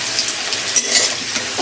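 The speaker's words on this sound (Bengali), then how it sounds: "আগে একটু আলুটা ভেজে নিলে ভালো হয়" Potatoes frying in oil for a spicy country chicken kosha, a close hiss and crackle of sizzling with a few brief scraping stirs, steady and alone.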